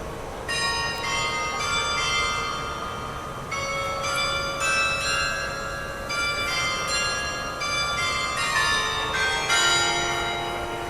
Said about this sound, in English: They even had a beautiful play of bells